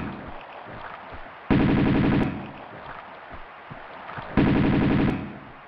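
Two loud bursts of rapid automatic gunfire in the video game Tomb Raider 2, each lasting under a second, separated by quieter ambient game noise.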